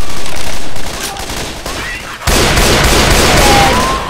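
Rapid gunfire bursts from a Left 4 Dead 2 match on Expert Realism, loud and continuous with a sharp surge partway through, close in the mix.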